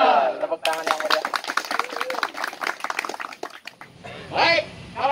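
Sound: group clapping

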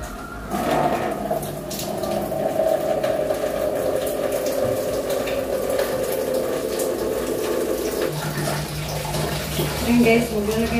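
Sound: water filling a washing machine for laundry

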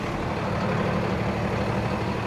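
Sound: Freightliner M2 106 truck engine starting and running

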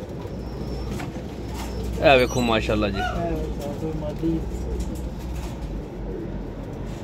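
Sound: pigeons cooing

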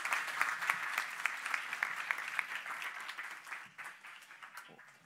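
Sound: audience applause for a conference speaker

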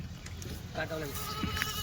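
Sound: Kathiawadi goat bleating

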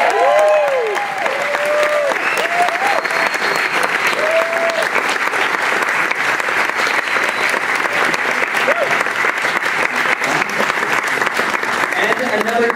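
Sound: audience applause welcoming director John Landis

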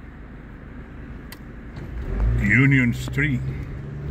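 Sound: car driving along Union Street, Jersey City

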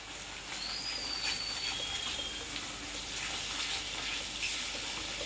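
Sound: ajwain (carom seeds) frying in oil

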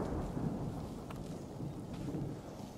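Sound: distant thunder during rain

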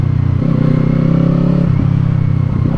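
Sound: Kawasaki Eliminator 450 motorcycle exhaust, 180 crank two-cylinder

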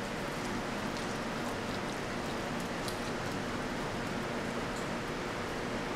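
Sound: water poured onto soil in a plant pot

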